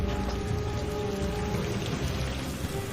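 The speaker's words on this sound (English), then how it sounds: "It's raining!" Steady, dense rain falls throughout a scene from the TV drama Prison Break, a continuous broadband hiss of drops on surfaces with no voices.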